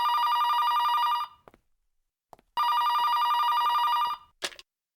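A telephone bell rings in two long electronic bursts separated by a pause, loud and clear against near silence, followed by a short click.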